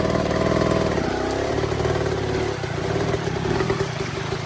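A dirt bike engine holds low revs with the clutch slipping as it edges up slippery rocks, a steady close mid-pitched chug with light mechanical clatter and a slight dip midway.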